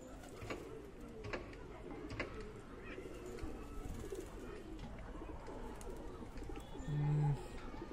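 A Punjabi chatri pigeon coos softly in repeated low murmurs, fairly faint over a background of rustling and other outdoor noise.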